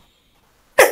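A single sharp sneeze bursts out close up after near silence, loud and brief.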